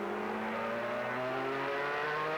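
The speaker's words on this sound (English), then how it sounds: "Piccio climbs out of the corners nicely, doesn't he? Got that BMW V8 in there." Picchio race car with a BMW V8 accelerating out of a corner at Phoenix during a sports car race; one brief, distant rising engine note climbs steadily in pitch, fairly faint.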